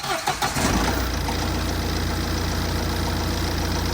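A car engine starts after a timing belt replacement and fuel injector repair: a short crank catches, then settles into a loud, steady, close idle that runs to the end with no talk.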